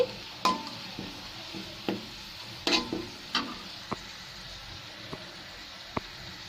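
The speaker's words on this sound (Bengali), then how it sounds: "পেঁয়াজ আর রসুনটাকে আমি লাল লাল করে ভেজে নিয়েছি" Onion and garlic fry in hot oil with a steady sizzle, broken by sharp clinks and scrapes of a spatula stirring against the pan, close and fairly quiet, with no voices.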